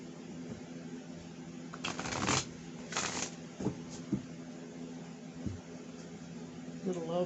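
A tarot deck shuffled by hand over a steady background hum, giving a few soft riffling bursts and light card taps that stay fairly faint and close.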